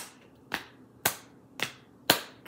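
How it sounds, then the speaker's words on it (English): Hands clap and pat in a slow, even rhythm, four sharp, crisp hits spaced about half a second apart, close and clear with quiet gaps between. "We'll clap and pat."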